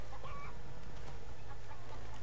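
Chickens cluck softly in a Call of Duty Black Ops level, faint scattered clucks set against a steady low rumbling game ambience.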